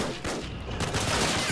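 A high-explosive round fired in an Army Men toy-soldier war video game, heard as a dense burst of rapid blasts and gunfire, loud and close throughout.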